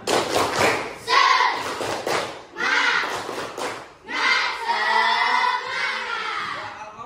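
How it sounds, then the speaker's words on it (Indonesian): A class led by a teacher does the rhythmic tepuk semangat group clap chant: loud, patterned bursts of clapping and thumping mixed with chanting voices, with short pauses between phrases. "kita tepuk semangat, tepuk semangat"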